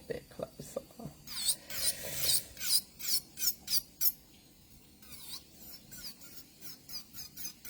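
An electric nail file with a safety drill bit grinds dip powder off nails, giving rapid rasping bursts in a steady rhythm that fade to quieter scraping, close and fairly faint.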